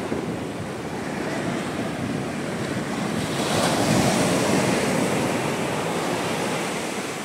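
Waves of the Bay of Bengal break on the beach at Ongole, Prakasam district, a loud continuous roar of surf and wash, swelling slightly midway, with wind buffeting the microphone and no voices.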